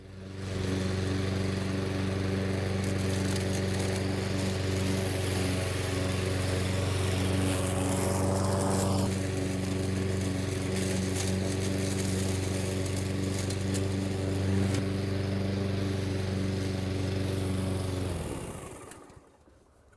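An Einhell MS51 SE lawn mower runs at a steady, droning idle for a long stretch, loud and close, before the engine cuts off and spins down at the end, with no voices over it.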